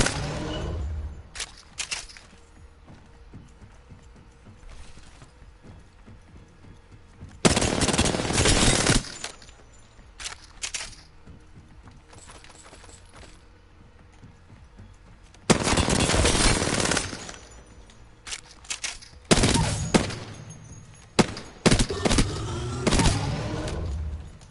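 Weapon fire in the battle royale shooter Apex Legends, fired at long range with no barrel stabilizer: several loud bursts of rapid automatic shots separated by quieter stretches, with scattered single cracks near the end.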